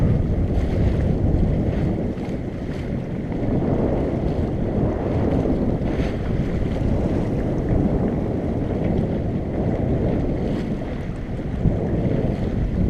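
Steady wind rushes and buffets across a microphone while a sailboat runs with the wind along the shore, with faint water wash beneath the continuous blustery roar.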